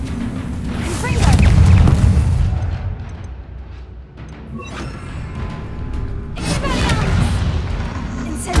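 Confringo fire spell explosions in Hogwarts Legacy, a loud booming burst followed after a short lull by another heavy blast, with a voice calling out spells over the noise.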